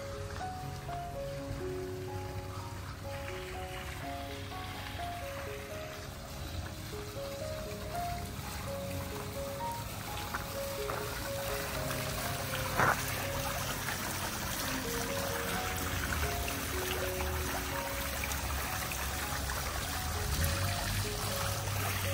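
Water sprays at the Death Valley ranch oasis, heard as a steady outdoor hiss of splashing water that runs throughout, with a faint musical tone and background activity underneath.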